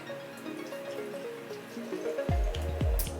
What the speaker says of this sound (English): We're gonna pour our lemon juice in our guy here.